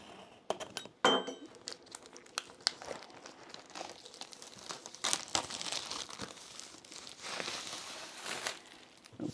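Packaging of a reMarkable 2 tablet crinkles and rustles as it is opened, soft close crackles, tearing and handling noises coming in uneven bursts, quiet overall.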